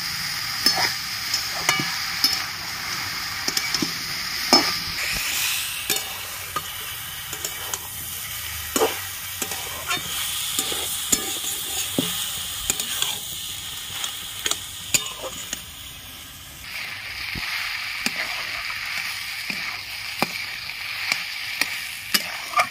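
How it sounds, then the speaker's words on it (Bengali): Chopped banana stem (thor) chhechki with ginger paste is stirred in a frying pan, steady sizzling hiss with repeated scraping strokes of the spatula, close and continuous with no talking. "ভালো করে নেড়ে নিচ্ছি"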